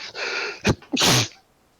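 One close sneeze with a quick intake and a breathy burst, heard alone during a tabletop role-playing game session.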